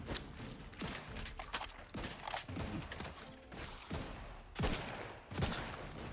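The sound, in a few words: gunshots in The Outer Worlds 2 video game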